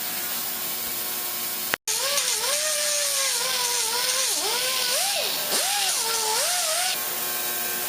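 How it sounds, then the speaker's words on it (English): A Dremel rotary tool cuts a part from a 1918 United Phonographs Corporation phonograph shorter, a loud high whine that starts abruptly, cuts out for an instant, then keeps running with its pitch dipping and rising as it bites into the metal. "I'm going to go back now with the Dremel tool and kind of cut this off shorter through here"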